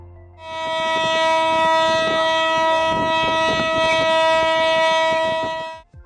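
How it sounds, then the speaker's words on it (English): A drilling rig well kick or blowout alarm: a loud, steady horn-like tone blares continuously on one sustained chord for several seconds, with faint clanking and rumble beneath it. "In case of a kick and/or a blowout, you will hear this alarm."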